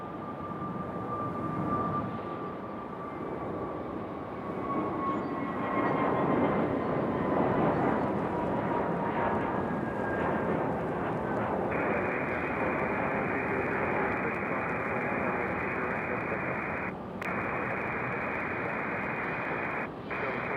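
A regional airliner leaving Raleigh-Durham on a short flight to Charlotte gives a steady, broad jet roar that swells and holds for the whole stretch. A thin whine rises over it partway through.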